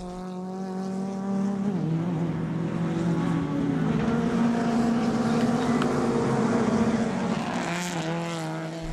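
Citroen Saxo race cars run on the Dracon track, engines droning steadily with rising and falling revs as they pass close by, loud throughout with a gear-change dip midway.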